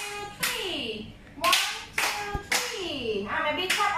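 Hands clap in a steady, repeating rhythm in a toddler music class, sharp and close, while a voice sings or chants along underneath.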